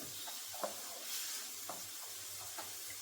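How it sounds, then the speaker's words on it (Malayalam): Ginger, green chili and garlic fry in a pan, a soft steady sizzle with several light scrapes and clinks of stirring spread across it, close and fairly quiet. "ഇഞ്ചിയുടെയും പച്ചമുളകിൻ്റെയും വെളുത്തുള്ളിയുടെ ഒക്കെ പച്ചമണം ഒന്ന് മാറുന്നനം വരെ നമ്മളൊന്ന് ഇളക്കി കൊടുക്കുക"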